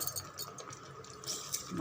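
Water pours into a paneer gravy in a short, soft, close splash and trickle, lasting under two seconds with no talk.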